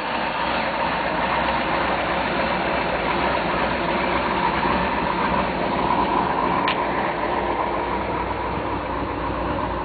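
A 1997 Active Thunder boat's engine idles steadily for the whole stretch, a constant low rumble and drone without talk, with one brief faint tick midway.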